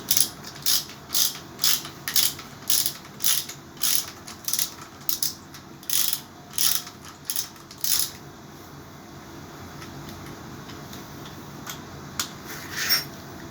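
A hand ratchet clicks in repeated quick bursts, about a dozen strokes over eight seconds, then a few sparse clicks, while loosening the cylinder head bolts on a seven-main-bearing Torino engine.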